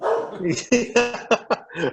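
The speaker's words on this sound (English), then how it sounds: "She is literally staring at the wall and barking." A dog barks in a quick series of short, close yaps and yips, overlapping with people talking.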